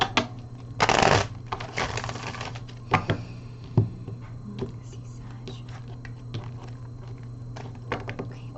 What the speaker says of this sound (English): one more shuffle and a cut.